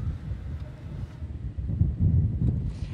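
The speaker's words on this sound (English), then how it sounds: "As you can see, it is windy out here" Strong wind buffeting a microphone outdoors in Porter Ranch during dry, fire-risk conditions, a continuous low rumbling roar that swells louder toward the end, with no voices.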